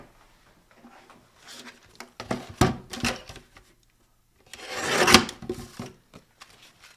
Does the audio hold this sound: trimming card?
yes